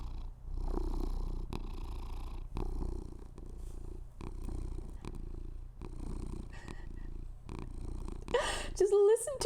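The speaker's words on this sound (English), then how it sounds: "I am currently trying to capture cat purrs" Close, steady purring from a cat pressed right against the microphone, a continuous low rumble pulsing with its breaths, with a brief high vocal sound near the end.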